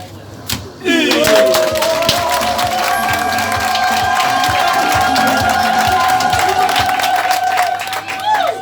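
Crowd at a customary wedding ceremony bursts into loud, sustained applause and cheering, with whistles and shouts over steady clapping that fills most of the stretch before tapering at the end.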